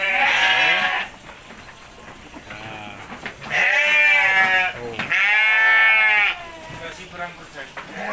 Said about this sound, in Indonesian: Kalau ini dombos, domba asli Wonosobo.